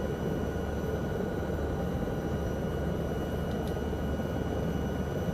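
A helicopter flying in Microsoft Flight Simulator 2024 over the Andes, heard as a steady, even rotor and engine drone that stays constant throughout with no change in level.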